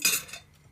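A metal fork pokes into a pot of cooked cow foot, giving one brief bright clink of metal against the pot followed by a faint softer tap, close and quiet.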